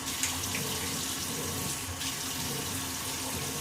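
Hot water pours steadily from a tap into a sink, a constant rushing splash at close range with no voices.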